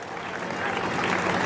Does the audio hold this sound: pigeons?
no